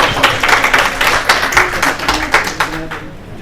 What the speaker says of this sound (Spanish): Un aplauso también para nuestra hermana Cecilia.